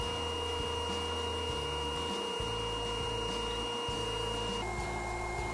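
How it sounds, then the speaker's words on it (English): A belt sander built for metal smooths the bandsaw-rough edges of a walnut cutting board, giving a steady motor whine and hum whose low rumble shifts as the wood presses against the belt. "At the sander, I cleaned up the rough edges left by the bandsaw."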